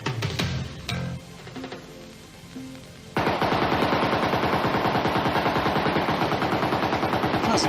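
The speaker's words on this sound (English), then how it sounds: "Just keep shooting this gun." A gun fired repeatedly in rapid automatic bursts, loud and dense, a steady rattling stream of shots that starts abruptly after a few scattered quieter sounds and continues without pause to the end.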